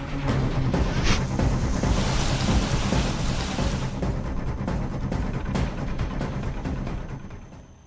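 Heavy, continuous rain pours down during monsoon flooding in Uttarakhand, India, a dense steady roar with rumbling thunder rolling underneath, loud and sustained before easing off at the very end.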